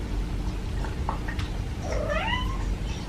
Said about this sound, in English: you hear Brittany like whining because I stopped playing with her